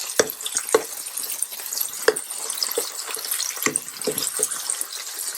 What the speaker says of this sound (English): I'm going to move these aside on the sides so I can throw the shrimp in the middle, spreading the shrimp.